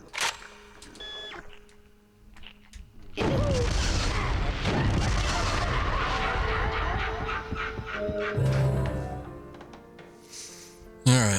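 Enemies bursting apart in Killer7: a heavy sustained explosive roar lasting several seconds, with game effects and beeps around it and a final sharp blast.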